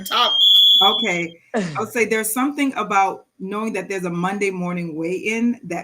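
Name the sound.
alarm beeping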